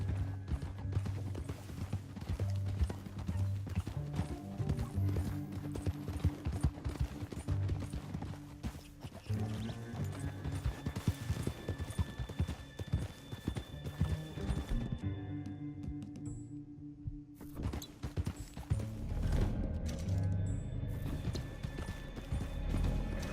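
Horses gallop in Red Dead Redemption 2 with steady, rapid clip-clop hoofbeats that stay loud and close throughout, backed by low rumbling game ambience and a brief whinny.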